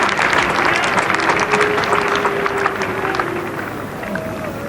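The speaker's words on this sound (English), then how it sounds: "so the applause for the first innings lead here for Australia" Cricket crowd applauding Australia's first-innings lead during the 1981 Ashes fourth Test, a steady spread of distant clapping from the stands that fades slightly toward the end, with no voices over it.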